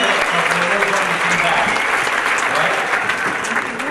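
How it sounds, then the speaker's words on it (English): Loud, sustained applause from a large crowd at a high school graduation ceremony in Chillicothe, honoring two staff members, a dense wash of clapping throughout with a faint murmur of voices mixed underneath. "Sue and Judy, stand up and give them a round of applause."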